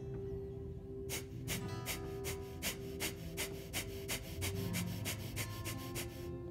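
Fast rhythmic yoga breathing, a quick run of sharp, forceful breath bursts at an even pace, close and loud over a low background hum.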